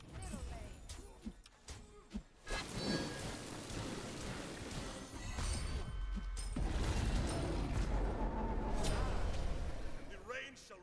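Steady rain with rumbles of thunder in a game soundscape, people talking over it and clicks scattered throughout.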